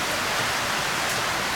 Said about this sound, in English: Yeah, it's pouring rain out there.